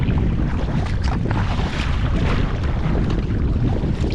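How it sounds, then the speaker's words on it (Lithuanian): Waves slap and churn against a boat crossing the Curonian Lagoon between Nida and Klaipėda, mixed with loud rushing wind on the microphone, a constant close roar with no pauses. "Bet bangos geros, ridenas labai smagiai."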